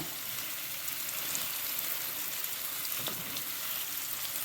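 Big lamb chunks for lamb stew cook in a pot with a steady, close sizzle and hiss that holds evenly throughout, with no talking.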